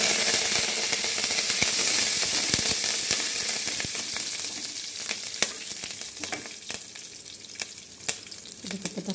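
Curry leaves frying in hot oil in a pan, crackling and sizzling loudly and continuously with scattered sharp pops and spits, close up and alone.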